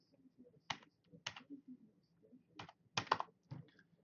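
Someone types on a computer keyboard in short, irregular bursts of quiet clicking keystrokes with brief pauses between, close by in a quiet room.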